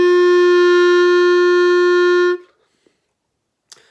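Open-note clarinet held as one steady, clear tone for about two seconds before stopping, followed by quiet silence with a faint click or two.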